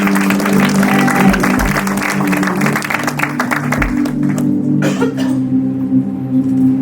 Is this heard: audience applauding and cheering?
yes